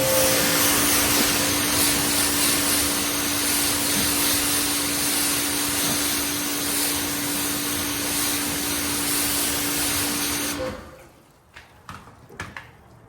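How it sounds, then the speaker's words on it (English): A loud, continuous hiss of pressurized spray with a steady motor whine rinses a surface during a ceramic coating spray abrasion test, running for about ten seconds, then cuts off, leaving faint clicks and quiet. "we're doing the abrasion test, and I'm spraying off each time."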